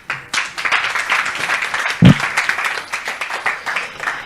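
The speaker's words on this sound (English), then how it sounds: "They started clapping." An audience applauding spontaneously at a fireside chat, a dense continuous patter of many hands clapping, with one sharp louder thump partway through.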